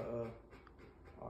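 A Rottweiler pants in quick breaths and lets out a short whimper, close by, with a voice speaking briefly over it.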